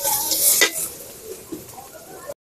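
Chopped garlic and paste hit a hot pan and sizzle loudly up close, with a brief stir of the spoon and a steady frying hiss throughout.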